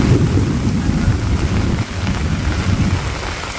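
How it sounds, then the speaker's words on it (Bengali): Heavy rain pouring in a Bangladeshi village, a dense continuous hiss of downpour with deep rumbling underneath, loud and close with no voices. "বাবা বৃষ্টি নামছে গো।"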